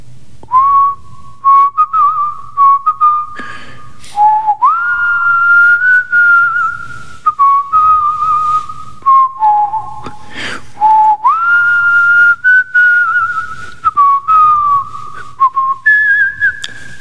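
A clear, melodic whistled rendition of a Korean song plays alone, phrases rising and falling in a steady song-like rhythm, close and loud.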